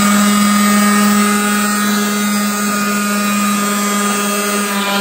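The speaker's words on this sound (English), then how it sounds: "we'll get the sander out and sand the edges" A power sander grinds along the edges of a homemade hovercraft under construction, a loud, steady, high-pitched motor whine with a persistent hum running throughout.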